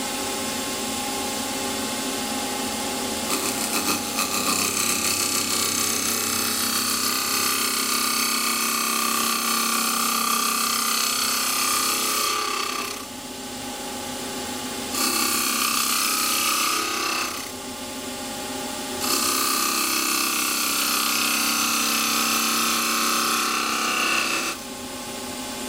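Woodturning tool cutting a multi-axis wooden drink cup spinning on a lathe, a continuous close scraping hiss with a steady motor hum, the cuts stopping and resuming in several passes with short quieter gaps, no talking.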